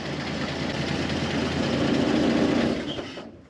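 A 1.5-ton Chevy dually truck engine idles nearby with a steady low rumble and faint knocking, swelling slightly before cutting off near the end.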